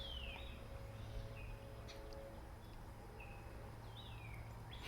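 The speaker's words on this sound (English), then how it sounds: "Got the nice sound of the birds." Small birds outdoors give a few faint, short chirps and whistled calls, spaced a second or two apart. A low, distant engine drone runs steadily underneath.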